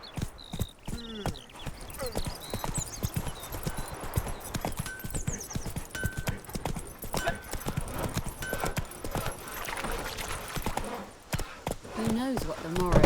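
Hooves of Roach, the horse in The Witcher 3, clip-clopping in a quick rhythmic stream of sharp knocks, with someone talking and other voices and game sounds mixed in.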